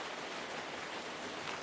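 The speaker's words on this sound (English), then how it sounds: "It's heavy rain. torrential rain." Heavy torrential rain pours steadily on a November morning outdoors, a dense, constant hiss with no break or talk.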